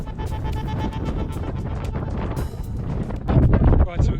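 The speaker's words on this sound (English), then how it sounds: "we've got some strong winds" Strong wind buffets the microphone on an exposed mountain climb toward a hut, a steady roaring rumble that swells louder near the end, with a voice speaking over it.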